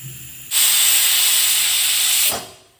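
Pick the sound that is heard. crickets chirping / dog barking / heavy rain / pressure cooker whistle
pressure cooker whistle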